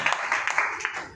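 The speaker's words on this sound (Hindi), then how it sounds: "जोरदार तालियां इनके लिए मारेंगे।" Brief burst of audience clapping at a gathering, honoring an older man. A handful of uneven, moderately loud claps in a short spurt.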